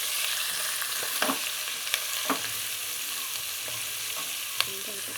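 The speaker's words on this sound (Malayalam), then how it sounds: "ഇതിനെ ഒന്ന് ചെറുതായിട്ട് മൂത്ത് വരുന്നിടം വരെ ഒന്ന് ഇളക്കി കൊടുക്കുക" Green chillies and curry leaves sizzle steadily in oil in a pan for a cauliflower masala, with a few soft scrapes and clicks from a spoon stirring them, heard close and alone without voices.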